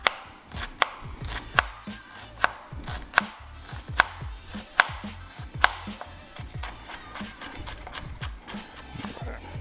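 Onions and peppers chopped with a knife on a cutting board, sharp regular knocks roughly every 0.8 seconds, close and distinct with faint rustling between strikes.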